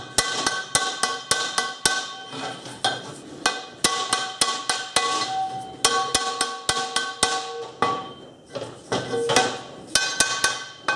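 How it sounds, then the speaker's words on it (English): Rapid metallic tapping from a small engineering hammer easing a metal gate part into place, quick bursts of ringing knocks with brief pauses between runs, close and fairly loud. "Get a small engineering hammer."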